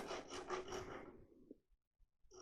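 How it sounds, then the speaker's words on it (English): A file scraping wood on a lathe-turned long-stem goblet, a close rasping stroke for about a second that fades to near silence, then a brief faint scrape at the end. "Just set your file down in that little channel that the file made."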